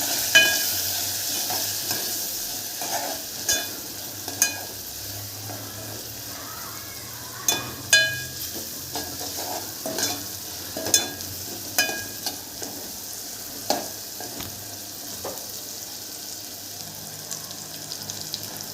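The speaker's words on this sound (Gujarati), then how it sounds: "હવે આપણે બધું મિક્સ કરી દઈશું સરસ." Spices and tomatoes being stirred in a frying pan for sambar, with turmeric, coriander-cumin powder and red chili added. A spoon scrapes and clinks in irregular strokes over a soft, continuous sizzle, close up, with no voices.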